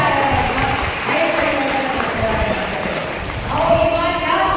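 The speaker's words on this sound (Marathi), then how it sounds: "अशा साध्या माणसासाठी जोरदार टाळ्या वाजवा." A crowd at a political campaign rally for Vinayakrao Patil claps loudly and steadily, a dense wash of applause that swells again near the end, with voices mixed in.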